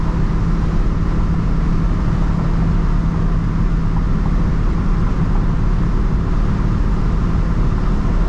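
A 1970 Chevrolet Nova Yenko Tribute cruising down the road on a hot day, a steady, full engine drone with road rumble running continuously and evenly throughout, no voices.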